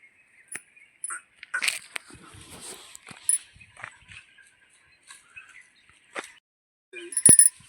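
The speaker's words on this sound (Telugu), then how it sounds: "కాదు ఇది మగ కుక్క పిల్ల" Several short, faint high-pitched yelps and whimpers from a small white male puppy, scattered across the clip with quiet gaps, ending in a sharper squeal.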